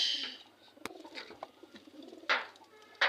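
Pigeons coo softly nearby, with a few sharp flutters and clicks breaking in between the low calls.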